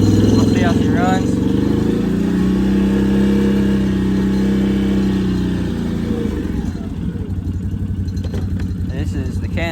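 A Can-Am Outlander 800 ATV fitted with a CV Tech clutch kit and Maverick belt runs nearby with a loud, steady mid-pitched engine drone and slight pitch shifts, then a rougher rattling idle, with someone talking over it.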